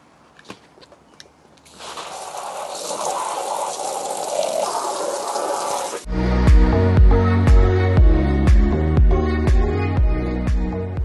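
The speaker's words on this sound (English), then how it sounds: "The hot tub's busy filling up with cold water right now." A hot tub is filled with cold water from a hose: a steady rushing stream of water runs for several seconds, then gives way to louder sloshing with repeated sharp knocks and splashes close by.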